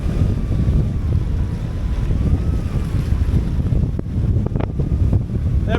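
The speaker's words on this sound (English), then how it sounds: "We had some horrendous gusts just came through a minute ago." Strong wind gusts roar across a sailboat, a loud, broad rushing with wave wash beneath and microphone buffeting, swelling in bursts toward the end.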